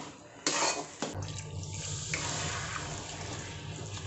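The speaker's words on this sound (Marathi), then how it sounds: "घट्ट पातळ पाहूनच याच्यामध्ये गरम पाणी ओतायचं" Hot water pours into thick pav bhaji cooking in a pan, a quick splash followed by a continuous soft gurgling pour, close by and moderately quiet.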